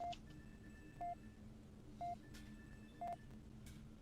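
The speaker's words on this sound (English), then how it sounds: "Somebody's calling me on my Fed phone." A phone call alert sounds as short, evenly spaced electronic beeps about once per second, faint and alone over a low background hum.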